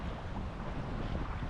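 Strong wind gusts across Torpesand Strand beach, giving a brief, constant rushing roar with a soft undertone of surf and no voices.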